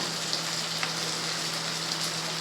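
Grated boiled eggs fry in a pan for a Bengali egg dish, giving a continuous, even sizzle close by. A few faint crackles rise above it, with no talk.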